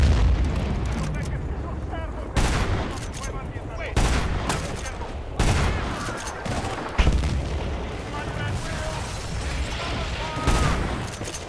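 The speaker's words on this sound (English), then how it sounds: "Wow, this is like explosive shotgun" Explosive shotgun fire in Battlefield: Bad Company 2 booms loudly in a steady series of blasts roughly every second and a half, amid constant battle noise, with a player talking over it.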